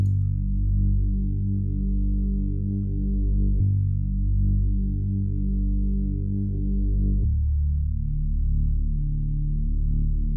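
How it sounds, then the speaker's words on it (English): Smooth, deep synth sub bass holding low sustained notes, changing pitch twice, with no high end and no other sounds. "I added a simple sub bass from Heat Up 3."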